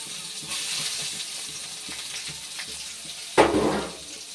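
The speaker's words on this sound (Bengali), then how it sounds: "এবার এর মধ্যে দিয়ে দেবো যে মিহি করে কুচনো পেঁয়াজটা ছিল সেটা।" Finely chopped onion fries in oil spiced with cumin seeds, a steady close sizzle with a soft stirring clatter and a brief louder burst near the end.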